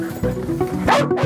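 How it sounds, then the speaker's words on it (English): A specialist spaniel sniffer dog on a police dawn raid for narcotics gives a few quick, close yips and barks with a brief whimpering edge. "Daniel the Spaniel is a specialist sniffer dog."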